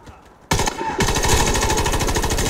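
Rapid automatic gunfire in the shooter Warface erupts suddenly and keeps going as a loud, fast, even stream of shots after a quiet moment.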